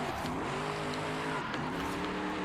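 A pickup truck with a 6.7 liter diesel engine tears across a loose gravel strip with almost no traction, a steady roar mixed with tire scrabble and crunching stones, close and continuous.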